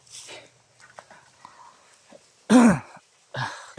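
A person coughs hard twice, a loud close burst followed by a shorter one, after quiet muffled talk and rustling in an outdoor chase setting.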